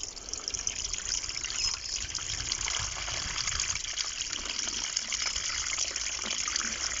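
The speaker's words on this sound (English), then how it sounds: "Now all we need to do is add water. And here comes the water." Water pours steadily into a newly dug wildlife pond, a continuous close splashing gush with trickling detail lasting the whole stretch.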